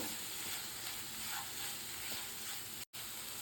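Curry leaves and a large green chili fry in a pan while being mixed, a faint, steady sizzle with light stirring and a brief dropout near the end.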